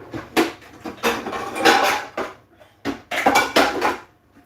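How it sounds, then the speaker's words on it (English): A bowl is pulled out and handled in a kitchen, several clattering knocks of crockery and utensils in two clustered bursts with short pauses, close and fairly loud, no talk. "So I'm going to get a bowl"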